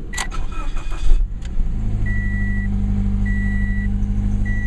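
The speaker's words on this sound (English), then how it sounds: "84 Hachi is about to start the 2013 Scion FRS" A 2013 Scion FR-S engine cranks with a brief whir and catches, then settles into a steady, low, cold idle, while an electronic chime repeats at regular intervals above the engine.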